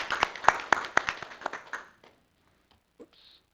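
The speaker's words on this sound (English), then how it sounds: "Let's give her a round of applause." Brief applause at a city council committee meeting, a scattered round of hand claps from a small group that thins out and stops after about two seconds, followed by quiet room noise.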